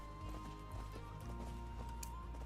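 Horse hooves clip-clop in a quick, steady rhythm in the video game Skyrim, moderately quiet against a soft ambient background.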